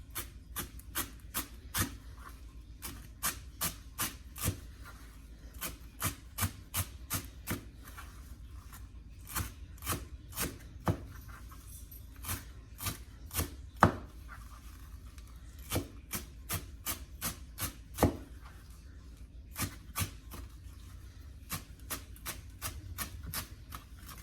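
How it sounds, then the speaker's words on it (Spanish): A knife chopping cilantro finely on a board, quick sharp taps in irregular bursts, close and fairly quiet, with no voices. "Nuestro cilantro también picado finamente."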